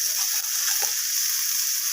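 Sugared, reddish-browned food sizzles in a pan, an even, bright hiss of frying held steady throughout with one faint stir.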